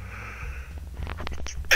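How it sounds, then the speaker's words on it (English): A person sniffs and breathes in a few short snuffles, then a sharp, loud sneeze bursts out at the very end, close to the microphone. "I'm actually gonna sneeze again"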